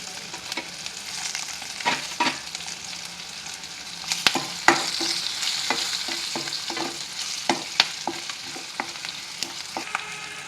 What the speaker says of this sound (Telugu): వేసుకొని వేగనివ్వాలి నాలుగైదు పచ్చిమిరపకాయలు